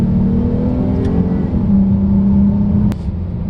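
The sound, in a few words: 2018 Dodge Charger accelerating down the road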